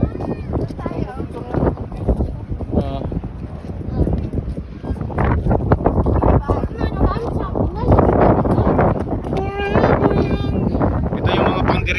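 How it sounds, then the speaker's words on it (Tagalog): Strong wind buffets the microphone outdoors in Ilocos Norte, a loud, gusty roar that swells and fades, with people talking over it. "Sobrang lakas ng hangin."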